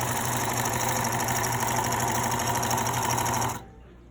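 A sewing machine stitches a scarf in one steady, loud whirring run of rapid needle strokes that stops abruptly near the end, with no voices over it.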